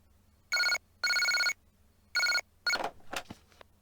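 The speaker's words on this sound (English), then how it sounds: "the phone rings." A phone in the video game Maria Kimitachi ga Umareta Wake rings with three loud electronic trills in a steady rhythm, then a fourth ring cuts off into clattering noise as it is answered.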